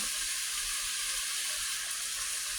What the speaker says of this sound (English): I'm going to get this browned